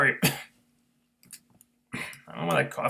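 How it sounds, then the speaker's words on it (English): A single sharp cough from a wrestling commentator, near and abrupt, followed by a pause and then talking. "I don't know where that cough came from."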